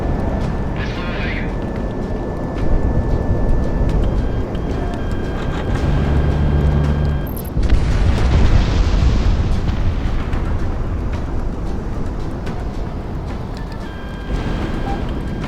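In the Project Wingman aerial combat game, a missile launches with a whooshing roar that swells into a rumbling blast, all over a constant jet engine drone, with voices speaking over it.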